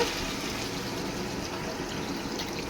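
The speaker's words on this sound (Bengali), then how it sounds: "এবার আমি এই যে পরিমাণ মতো জলটা দিয়ে" Water is poured into a pot of Bengali pangas fish curry with potatoes and peas, a soft steady splashing gush that runs on evenly without talk.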